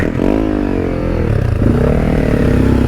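A BMW 1200 GS Adventure motorcycle rides along a single track, its engine loud and close, revving and labouring with rising and falling pitch and some clatter underneath, with no talking.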